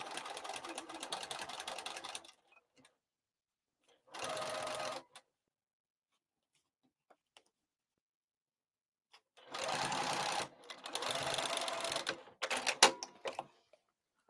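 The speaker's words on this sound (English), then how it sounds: "I still have it at a stitch length of 6, so I'm basting it in, and I will back tack 1/8 of an inch." A sewing machine runs in bursts while basting the exterior of a crossbody bag at a long stitch length, with quick back-tacking: several whirring runs separated by silent pauses, close and clear.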